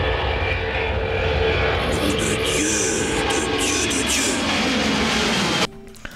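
A fixed-wing airplane's engines roar steadily and loud for several seconds, a broad sustained drone in a scene from the 1986 film Crocodile Dundee, then cut off abruptly near the end.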